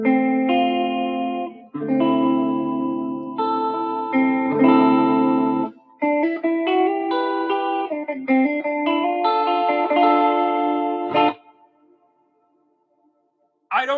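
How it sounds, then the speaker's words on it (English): Electric guitar through a Line 6 Helix with chorus added plays a sustained, blooming passage of chords and notes with long decay for about eleven seconds, then fades to near silence before a brief sound at the end. "Add a little chorus to it."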